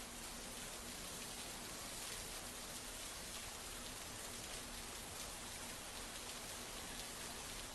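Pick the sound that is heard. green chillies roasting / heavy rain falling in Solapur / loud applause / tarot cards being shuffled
heavy rain falling in Solapur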